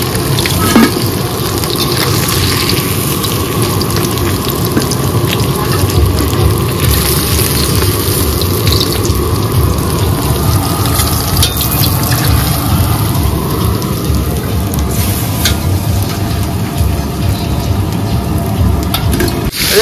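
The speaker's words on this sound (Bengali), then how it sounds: "ঠিক আছে, সব মাছগুলো ভেজে নাও তাহলে।" Fish frying in a pan, a loud continuous close sizzle with steady hiss and crackle that carries on without pause.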